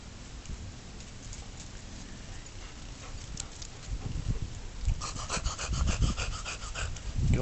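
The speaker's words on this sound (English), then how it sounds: "I got two dogs kicking up, running around." Two dogs running around outdoors and panting, quick rhythmic breathing growing louder and closer toward the end, with scuffling footfalls.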